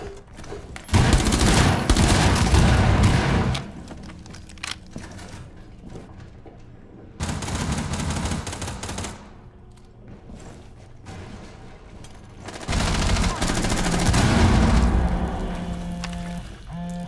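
Bursts of automatic gunfire from a Rainbow Six Siege team deathmatch on the Consulate map, three sustained loud volleys separated by quieter stretches with mechanical clatter.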